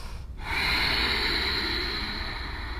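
A deep breath during a yoga pose: a sharp nasal intake followed by a long, steady, close-up exhale of air.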